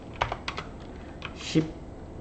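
Keys on a computer keyboard, including the spacebar, are pressed during video editing: a few quick, close clicks followed by one heavier key thump, under light background noise.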